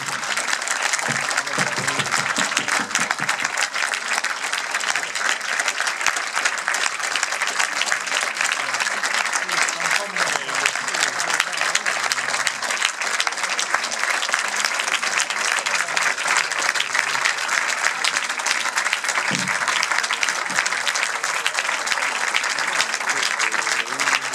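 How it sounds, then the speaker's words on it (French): A cinema audience applauds to welcome a film director and an actress, a dense, loud, sustained wash of clapping from a large crowd that carries on unbroken. "je vous demande d'accueillir comme il se doit, et sous vos applaudissements, Abel Ferrara et son actrice Shannon Lay."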